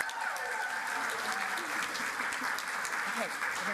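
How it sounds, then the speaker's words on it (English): Audience at a health summit giving a steady round of applause, with dense continuous clapping and faint voices mixed in. "Can we give Simone another round of applause for everything she's done?"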